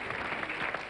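An audience applauds Gérard as he is called up during a game, a brief steady patter of many hands clapping at moderate level with no voices.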